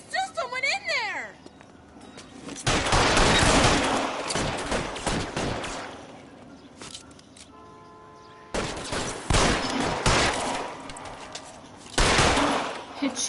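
Bursts of gunfire in the video game L.A. Noire, several loud volleys of rapid shots separated by quieter gaps, with voices talking over the action.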